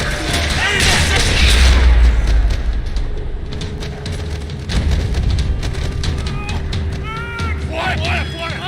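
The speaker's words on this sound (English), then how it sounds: "Another parking lot rattling with gunfire." Gunfire rattles through a parking lot in the video game Max Payne 3: heavy booming shots and rapid bursts over a dense, steady roar, with voices shouting between the volleys.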